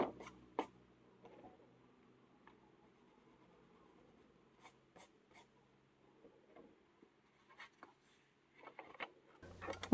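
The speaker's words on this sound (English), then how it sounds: "I traced it on tracing paper and transferred it to the gecko pad" A pencil traces a design on tracing paper in short, faint scratchy strokes, scattered and intermittent against near silence, close by.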